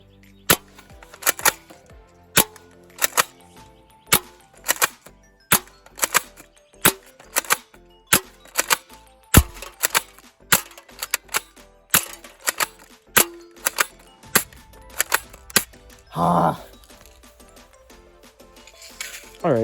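A Crosman M14 airsoft rifle fires repeatedly at a can, sharp snapping shots at a steady, unhurried pace, close and loud, with a brief rattle near the end.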